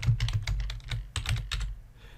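Rapid typing on a computer keyboard, with quick uneven bursts of close, crisp key clicks that are steady and loud and carry no speech.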